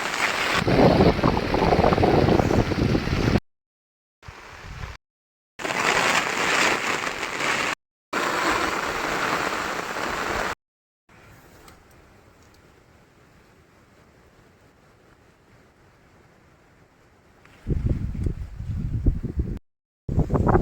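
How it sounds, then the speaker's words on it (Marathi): Heavy monsoon rain pours over a village farm field, a loud broadband wash in choppy bursts with abrupt cuts and a quieter stretch in the middle, wind buffeting the microphone, no talk. "जसा शेतात आलोय तसाच पाऊस चालू झालाय मोठा एकदम"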